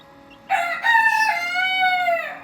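A white silkie (Baekbong Ogolgye) rooster crows close by, one loud drawn-out cock-a-doodle-doo that rises sharply and holds for about two seconds with no talk over it.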